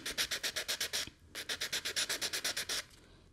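Patina being rubbed by hand across filigree metal bracelet links, a close, rapid series of rhythmic scratchy strokes in two bursts separated by a brief pause.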